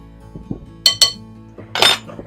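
Metal utensil clinking against a mixing bowl while baking powder and baking soda are stirred into flour for sourdough discard muffins: a few soft scrapes, then three sharp clinks, two close together and one louder near the end.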